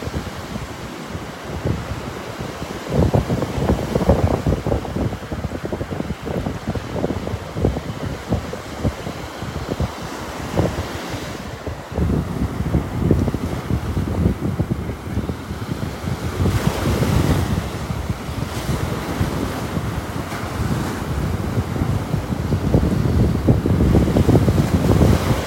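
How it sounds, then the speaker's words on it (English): Blustery wind on a beach in North Naples, Florida buffets the microphone in heavy, irregular gusts over the rolling wash of surf, loud and close throughout with no talking. "Tighten up my hood here as I'm walking into the wind."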